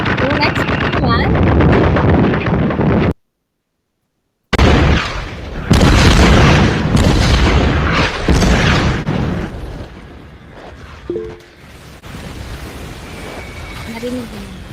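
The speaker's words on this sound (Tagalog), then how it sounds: "Tunog ng Mga bomba." Bomb explosion sound effect played during an online class, a series of loud booms and bursts with a brief silent gap, followed by softer rumbling and some voices talking.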